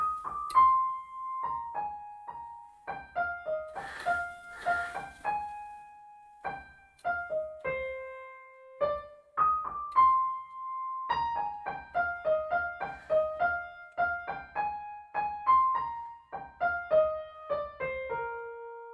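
Solo piano plays the intro melody of a Bollywood ballad from Tamasha, a slow line of single notes and light chords with gentle sustain, close and clear with no voices.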